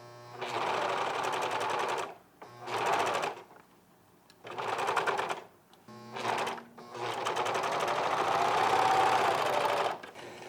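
A sewing machine stitches the sleeves onto the body of a shirt and adds top stitching, running in five bursts of steady whirring separated by short pauses, the last burst longest, close and fairly loud.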